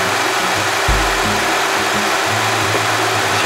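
A Nissan Altima's engine idles in the engine bay, its motor mounts letting through slight vibration. A close, steady low hum and rumble carries a faint shifting drone underneath.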